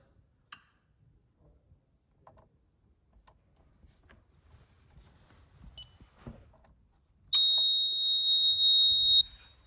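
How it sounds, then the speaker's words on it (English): After some faint clicks and handling of the test button, a loud, high-pitched LD32 water leak alarm tone sounds steadily for about two seconds. "And there you can see it's gone into alarm"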